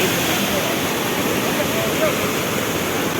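Swollen stream in flood, a continuous loud broadband roar of rushing water with no pauses.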